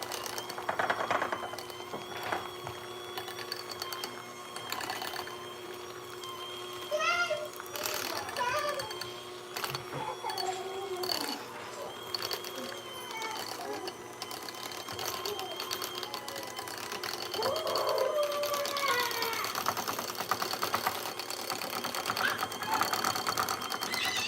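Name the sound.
electric mixer running while making cheese dip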